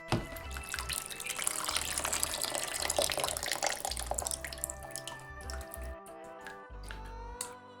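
Water drips and trickles from a soaked, cheap gaming keyboard, with splashing and dribbling that runs throughout at moderate level and thins out with scattered drops near the end.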